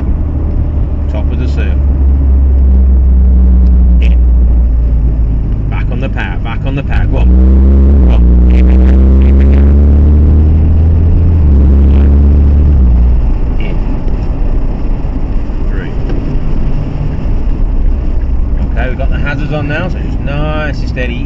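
A Nissan GT-R accelerating on a track, the engine droning loudly and rising in pitch through repeated surges and easing off between them, close and continuous for over twenty seconds.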